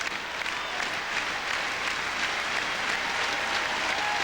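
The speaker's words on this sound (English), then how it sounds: "Fans clapping, pounding those plastic things together." Baseball fans at a Baltimore Orioles at Boston game clapping and pounding plastic noisemakers together, a dense, even roar of crowd applause filling the whole stretch without a break.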